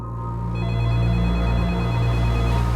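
A telephone rings at a police station late at night, a steady electronic ring that fills the room without any talk over it.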